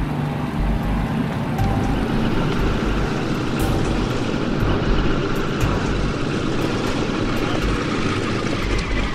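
A Canadair CL-215 amphibious propeller plane rolls along a runway after a crash landing without hydraulics, its engines and airframe producing a loud, steady droning rumble with rattling bursts near the end.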